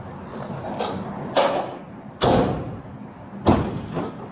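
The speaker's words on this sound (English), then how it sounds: "He's gonna shut the door." A car door being shut by a deputy, heard as several sharp thuds and slams at irregular intervals over a quiet background, with no speech.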